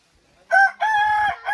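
A rooster crows at close range on a hot farm near Eluru, one loud, clear call broken into short bursts.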